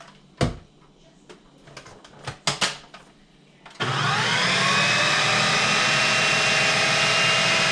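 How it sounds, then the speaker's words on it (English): A blender switches on abruptly after a few clanks and taps, then runs at a loud, steady whine while blending homemade hummus. "I'm going to blend it for about 30 seconds at a time."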